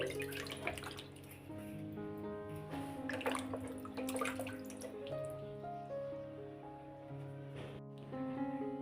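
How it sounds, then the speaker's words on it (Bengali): Duck meat is rinsed under steady running water, with splashing and dripping against a faint background of music. "তো এবার আমি হাঁসটা ভালো করে নর্মাল পানি দিয়ে ধুবো"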